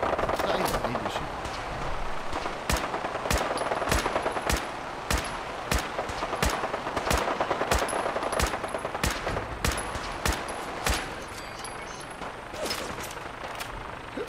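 Rapid gunfire bursts from the Fallout 4 video game, a steady string of sharp, loud shots and short automatic volleys over a busy game soundscape, with a voice speaking briefly in between.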